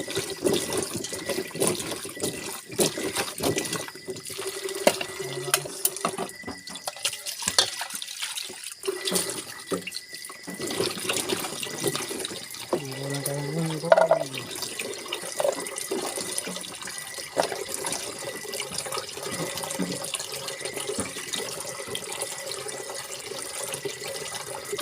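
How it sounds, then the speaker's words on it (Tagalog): Running tap water splashes over squash being washed in a home kitchen sink, a continuous close rushing and trickling that shifts as the vegetable is turned under the stream, with no talk. "maghugas tayo ng kalabasa."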